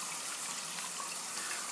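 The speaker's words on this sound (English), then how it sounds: "let me go ahead and rinse the soap off here" Running water from a tap rinsing shaving soap away after a shave, a steady close hiss and gush with no break throughout.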